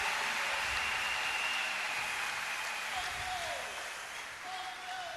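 Sustained applause from a church congregation honouring Maman Fauveau, a steady wash of clapping throughout, loud and continuous, with faint voices mixed in.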